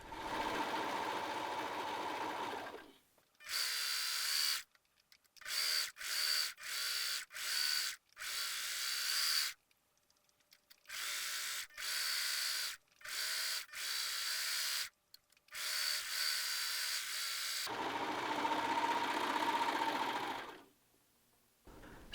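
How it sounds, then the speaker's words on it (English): A serger overlocks the center front and back edges of the fabric mantle pieces for a medieval hood, humming up close in a long opening run, then many quick stop-start bursts, then another sustained stretch. "If you have a serger, serge the center front and center back edges of the right and left mantle"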